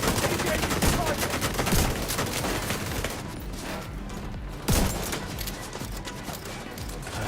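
Dense, continuous turret gunfire in the video game The Division 2, a steady rattling barrage with a sharp louder crack partway through.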